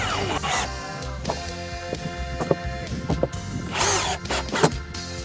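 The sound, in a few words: power drill driving screws into a board from underneath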